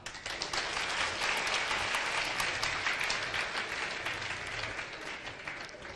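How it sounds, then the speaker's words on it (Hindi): Steady audience applause at a Hindi-language public talk on the dangers of gutkha, a dense sustained wash of many hands clapping that fills the whole stretch at moderate distance with no voices on top. "यदि ये वाक्य से आपका सम्मान अच्छा रहा हो तो ताली बजा दें।"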